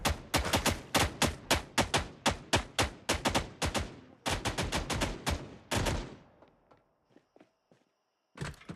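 Rapid gunfire in the zombie-survival game Project Zomboid: about twenty sharp, loud shots in an uneven rhythm for six seconds, then a few quieter scattered reports, a pause, and a final burst.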